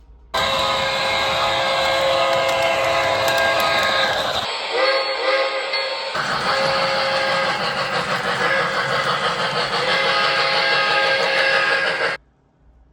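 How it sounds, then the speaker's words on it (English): A loud, sustained steam-style whistle from an MTH Premier model steam locomotive sounds twice, separated by a brief quieter gap, then cuts off abruptly. "MTH Premier steam engines that all have the same whistle."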